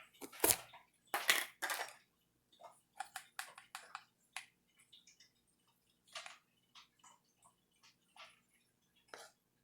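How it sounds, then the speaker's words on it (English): Powdered milk poured into a glass jelly jar: a series of short, dry rustling bursts, irregular and close, separated by silences, with no talk. "we are going to put in 1 cup of powdered milk"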